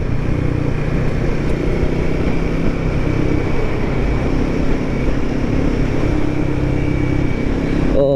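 Royal Enfield Guerrilla 450 motorcycle riding on twisting mountain roads: a steady, loud engine drone with broadband wind rush, continuous for the whole stretch with no talking.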